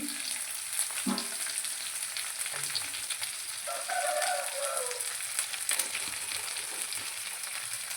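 Finely chopped onions fry in hot oil in a pan for a clam roast, a soft, steady sizzle heard close but fairly quiet, with a few light clinks.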